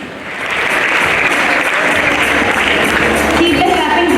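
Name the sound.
students applauding at school Teachers' Day celebration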